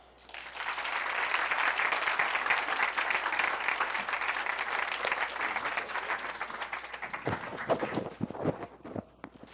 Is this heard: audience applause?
yes